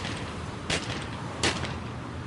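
Gunshots are fired during a police carjacking incident. Two sharp, fairly faint cracks come about three-quarters of a second apart over a low background hiss.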